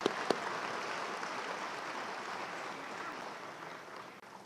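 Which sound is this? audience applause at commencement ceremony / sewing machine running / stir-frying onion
audience applause at commencement ceremony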